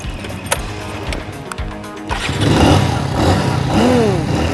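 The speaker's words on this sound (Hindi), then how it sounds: "गाड़ी की आवाज़ काफ़ी दमदार है" Avenger cruiser motorcycle engine heard on a ride, first a muffled idle with scattered clicks, then a louder, fuller rumble as it pulls away and rises in pitch, near and steady.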